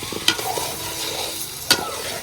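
Chicken and potatoes fry together in a pot for chicken pulao, sizzling steadily up close, with two sharp scraping stirs cutting through the hiss.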